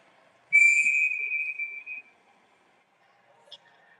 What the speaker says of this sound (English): Not sure what this whistle is for